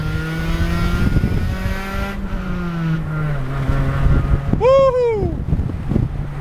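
A Honda Civic Si with a rusted-out exhaust revs hard through a downshift into second gear, its loud raspy drone climbing and falling, with a brief high whistling squeal near the end and no voices.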